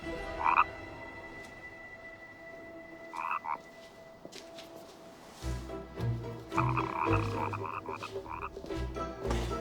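A frog croaks repeatedly in short, throaty bursts, spaced irregularly and close, with soft ambient background between calls and no talking.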